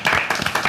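A studio audience on a French talk show claps for a guest singer, a brief burst of several close, loud hand claps in an uneven rhythm.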